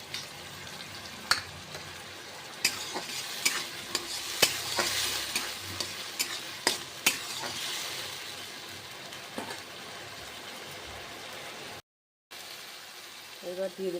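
Spices sauté in oil in a pan with a bright, continuous sizzle and repeated clanks of a spoon stirring against the metal, quieter toward the end after a brief cut.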